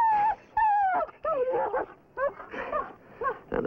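A dog whimpers and whines in a run of high, wavering cries and short yips, close and fairly loud, with no talking.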